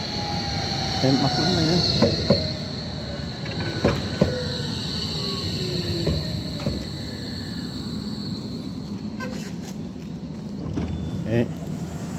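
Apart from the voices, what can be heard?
train arriving at station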